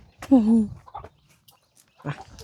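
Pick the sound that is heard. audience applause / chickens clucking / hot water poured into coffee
chickens clucking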